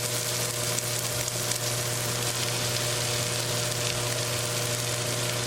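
Fresh home-grown spinach hits a hot pan already cooking potatoes for aloo palak sabzi, letting off a loud, steady sizzle and frying hiss with no talk.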